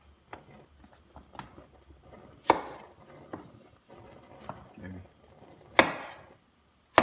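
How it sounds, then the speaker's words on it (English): A kitchen knife chops bell pepper into triangles on a cutting board, a few sharp, separate knocks spaced irregularly over faint background rustle. "Now my bell pepper, I'm only gonna do a couple. I'm gonna cut these triangles instead"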